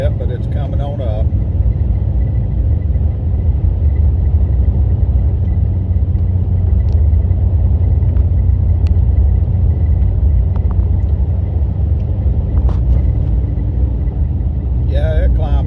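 A truck on Nitto Terra Grappler G3 tires climbs a snowy hill in two-wheel drive through 8-inch snow, its engine a loud, steady rumbling drone close by, with a voice talking over it briefly at the start and end.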